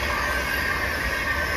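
A West Coast Class 390 train passing close by, a steady loud rumble and rolling hiss of wheels and carriages filling the whole moment without a break.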